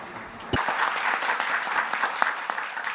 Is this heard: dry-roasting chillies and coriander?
no